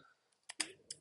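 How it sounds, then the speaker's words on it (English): Computer keyboard typing of a terminal command, a few quick sharp key clicks, close and fairly quiet, with no talking. "Actually, I should start typing brew"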